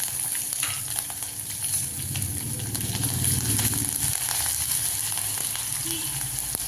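Curry leaves and ginger-garlic paste fry in hot oil for potato bonda, giving a steady, close sizzle with soft stirring scrapes throughout.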